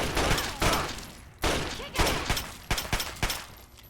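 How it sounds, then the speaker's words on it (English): Gunfire bursts out in a Fallout 3 game session, a run of loud sharp shots in quick irregular clusters, some rapid and echoing, with no talk over them. "She has heard all of this gunfire"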